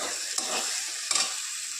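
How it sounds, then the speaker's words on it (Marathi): Masala paste for a spicy pea and paneer curry sizzles and crackles in hot oil, with two scraping strokes of stirring breaking through the steady hiss. "हे पहा आता आपला मसाला परतून झाला आहे याच्यावर तेल यायला लागले बघा"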